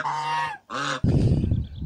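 Geese honking in a garden where hens are also kept: two loud, close, nasal honks in quick succession, then a burst of rougher, noisier goose calling.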